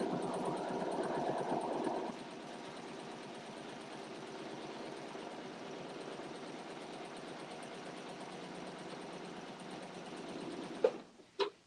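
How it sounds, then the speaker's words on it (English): An Elna eXcellence 780+ sewing machine stitching in place, running with a loud, rapid, even whir at first, then settling into a quieter steady hum, with a few sharp clicks at the end. "what I can do is stitch in place a little bit"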